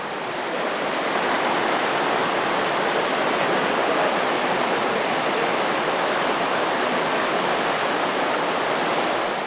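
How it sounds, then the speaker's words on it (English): A waterfall pouring down the side of a canyon makes a steady, broadband roar, close and constant, with no voices over it. "we have one last waterfall on the side of the canyon"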